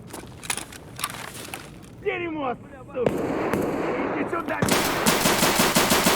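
Rapid automatic gunfire in a shooter video game, loud bursts of fast cracks coming in clusters that grow denser toward the end, with voices talking in between.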